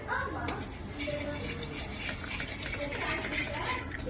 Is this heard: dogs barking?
no